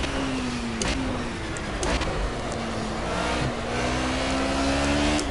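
A Mercedes race car with a Cosworth engine in Project Cars, its engine droning steadily and loud throughout, pitch shifting through gear changes with brief sharp clicks and no talking.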